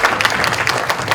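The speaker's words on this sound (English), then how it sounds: "Let's give another round of applause to our incredible panel." A brief burst of sustained audience applause for a keynote panel at a conference, dense clapping from a crowd heard alone.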